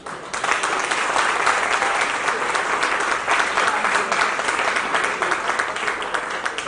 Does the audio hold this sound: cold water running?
no